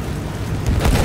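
Field gun artillery in Battlefield 1 booms as a single heavy, dense blast rising out of a continuous low rumble of battle noise.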